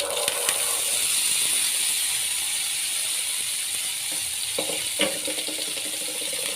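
Boiled chickpeas are tipped into a hot pan with mustard seeds and curry leaves and stirred for masala sundal. A steady sizzle runs under scattered scraping clicks from the spoon.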